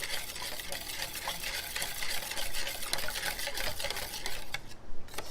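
Cassava custard cake batter stirred by hand in a bowl, a steady close scraping and swishing with faint wet sloshing that runs continuously without pause.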